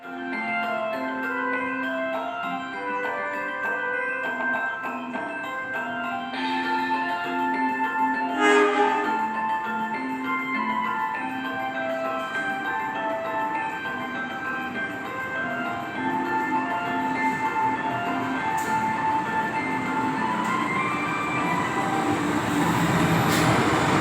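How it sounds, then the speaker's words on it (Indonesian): KRL Bandung Raya commuter train running from Cimahi station toward Kiaracondong, a steady rolling rumble with sustained tonal hum and occasional rail squeals, continuous throughout with no talking. "aku naik komuter lain Bandung Raya dari stasiun Cimahi tujuan ke stasiun Kiara Condong"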